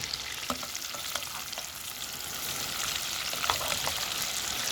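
Steady, close sizzling and crackling of cod frying in a hot pan over low heat, with occasional louder pops and spits throughout.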